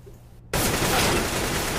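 Sustained AK rifle fire in a Counter-Strike match erupts after a brief quiet lead-in, a loud dense rattle of overlapping shots continuing steadily to the end.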